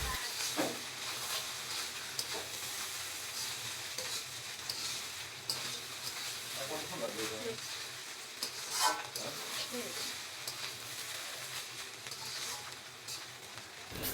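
Chicken fried rice with ghee being stirred in a pan, a continuous close sizzle and hiss with repeated scraping strokes of the spatula throughout, moderately quiet.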